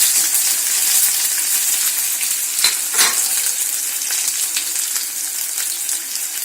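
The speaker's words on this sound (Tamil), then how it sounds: "எண்ணெய் சூடாயிருச்சு. கடுகு போட்டுக்கலாம். கடுகும் பொரியுது." Mustard seeds splutter in hot oil for a tapioca dish, making a loud steady close sizzle with a few sharper pops along the way and no talking.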